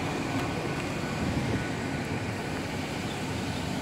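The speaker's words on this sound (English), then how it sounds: "Okay, this train is about ready to depart." Class 800 train at Taunton station: a steady low rumble and hum of the idling or departing unit, continuous and fairly loud, with no talk.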